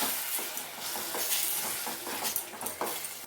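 A spoon stirs spice powder into a chutney in a pan, a soft continuous scraping and mixing with faint sizzling hiss, close and quiet, with no voices.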